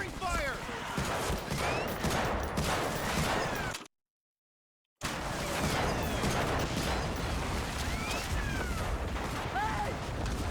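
Gunfire and clattering mechanical battle noise in the 2002 PS2 shooter Medal of Honor: Frontline, steady and fairly loud, cut by a sudden second of silence, with voices shouting over the fighting.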